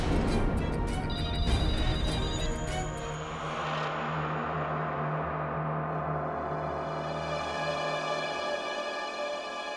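A telephone rings faintly in a horror radio drama, a thin electronic tone heard briefly over a low sustained background drone.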